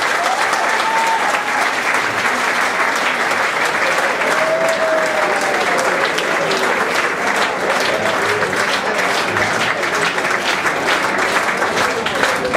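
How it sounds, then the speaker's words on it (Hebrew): Audience applause at a live music show fills the room, a loud, dense and steady clapping that holds without a break from start to finish. "מחיאות כפיים"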